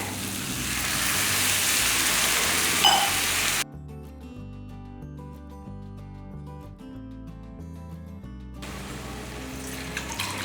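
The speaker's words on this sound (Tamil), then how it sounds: "அரை டம்ளர் தண்ணியை இதில் ஊற்றிடுறேன்" Half a tumbler of water pours steadily into a pot for chana dum biryani, then stops while soft music plays, and pouring resumes near the end.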